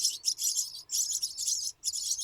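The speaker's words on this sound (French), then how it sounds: "comme on l'entend, il y a des oiseaux qui ont fait leur nid ici" Nestlings in a nest by the front door of a small cottage in Ireland chirp in rapid, shrill bursts, four loud close bouts separated by brief pauses.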